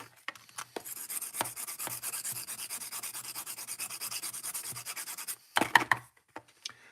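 A drawing pencil being sharpened by hand during a figure-drawing demonstration, giving a steady close scraping rasp for about five seconds, followed by a few short scratches and taps.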